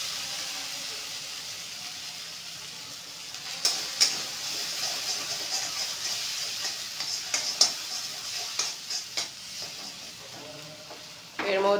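Paneer thecha paste, a mix of coriander leaves, garlic, chilli and cumin, sizzles steadily in hot oil, with a continuous bright hiss broken by a few sharper crackles and pops toward the end.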